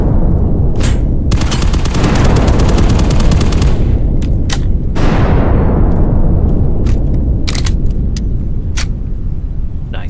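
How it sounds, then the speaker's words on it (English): Loud video game gunfire: a long rapid automatic burst, then scattered heavy single shots and short bursts close by, with continuous rumbling noise underneath and no talk. "Oh shit, that guy's shooting."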